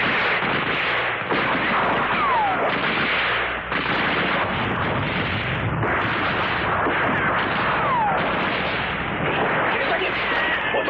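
Heavy artillery pounds without pause in a Korean War battle, dense overlapping booms and blasts filling every second, loud and close, with shouting voices buried in the din.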